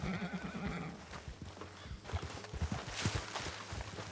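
A horse in a RedM western game whinnies near the start, and hooves clip-clop in a steady walking rhythm after it, moderately loud with no voices over them.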